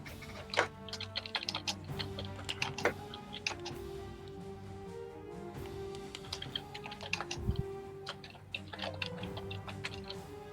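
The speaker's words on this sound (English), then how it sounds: "Insert ominous GM typing here" A game master typing on a computer keyboard, steady clusters of quick close key clicks with occasional louder taps and short pauses, over a faint low hum.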